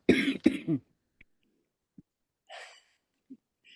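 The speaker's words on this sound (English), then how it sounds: "It's okay. Coughing happens." A cough or two up close, followed by quiet breaths and a brief throat sound, with long pauses between.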